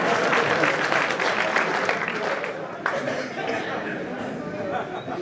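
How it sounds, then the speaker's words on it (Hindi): Audience applause at a Hindi comic poetry recital, a dense sustained clapping across the whole stretch that stays loud throughout, with a brief surge partway through and crowd murmur mixed in. "ताली बजाओ, हिली न करो।"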